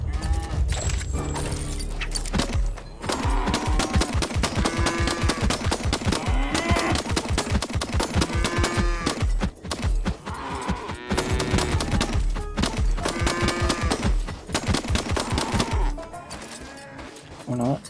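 Cattle mooing in the Far Far West video game, repeated drawn-out lowing calls heard over dense rapid gunfire and busy game noise, with voices talking throughout.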